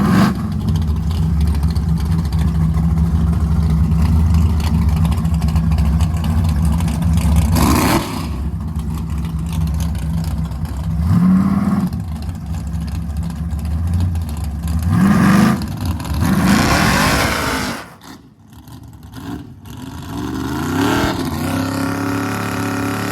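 1956 Chevy four-door drag racing on a quarter mile strip, a loud engine roar with repeated revving surges and gear-change dips, ending in a sudden drop and fading rumble.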